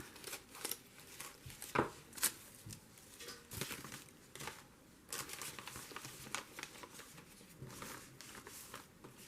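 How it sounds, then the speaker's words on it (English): Scissors cut apart a paper gift bag in a series of soft, close snips and rustles of paper at a steady, uneven pace, faint and without speech. "Let me cut one of these apart."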